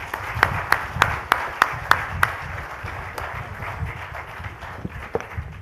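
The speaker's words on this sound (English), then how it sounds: "Please give him a huge round of applause." A forum audience in Guwahati, Assam, claps for Ranjit Bhattacharya, founder of the Balipara Foundation Awards, a thin, sparse run of distinct hand claps at an even pace that fades out over a few seconds.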